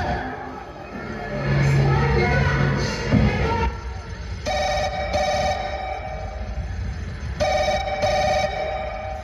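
A telephone rings in a stage comedy play, repeated electronic ringing bursts in short pairs under a reverberant hall, with an actor speaking earlier.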